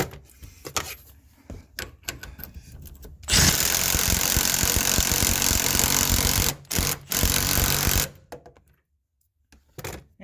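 A stubby impact wrench hammers a 19 mm shock nut during a Koni shock and UMI spring install, a loud buzzing rattle of about five seconds, then two shorter bursts after brief pauses, with quiet workshop clatter before.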